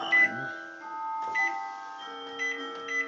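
A kitchen microwave oven timer gives a series of short electronic beeps in a bright, tonal repeating pattern, close and clear with no talking.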